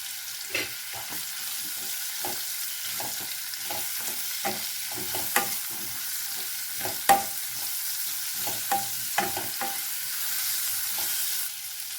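Spices being stirred into a cauliflower gravy in a pan, a series of sharp spoon scrapes and knocks spaced irregularly over a faint, steady hiss, close and clear with no voice.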